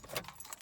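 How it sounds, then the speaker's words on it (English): Car keys jangle in a brief, faint metallic rattle inside a parked car in a garage as the engine is shut off, with a few light clinks spread over under a second. "Let me turn my car off though."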